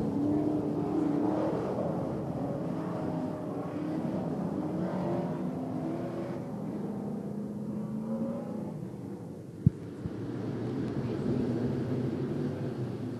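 A field of modified race cars charges into a turn, a continuous distant roar of engines with a sharp click partway through, loud throughout with no talk.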